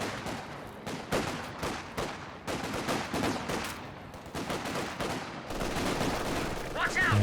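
Vickers machine gun fire in Company of Heroes 2, bursts of rapid automatic shots mixed with other battle gunfire, fairly steady across the stretch with a commentator's voice running under it.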